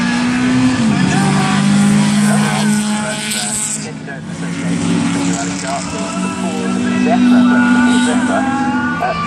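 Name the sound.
four-wheel drive Lada Samara Group B rally car engine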